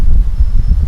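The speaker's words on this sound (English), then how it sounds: "Sorry about the wind." Outdoor wind buffeting a microphone beside a 122,000-mile 2022 Tesla Model 3, a loud low rumbling roar that swells and dips for about a second, with no voice.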